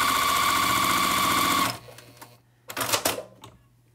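A sewing machine stitches a wonky Christmas tree quilt top in a fast, steady mechanical whir for about a second and a half, then stops, followed by a few faint clicks and handling noises.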